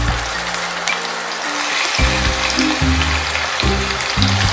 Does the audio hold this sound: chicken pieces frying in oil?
yes